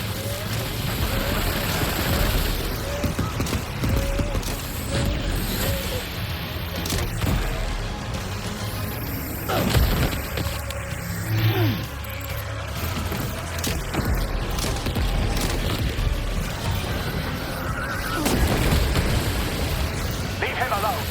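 Gunfire and bursts of combat erupt in Death Stranding 2: On the Beach, sharp pops and booming impacts scattered across a dense battle soundscape, with in-game voices speaking over the action.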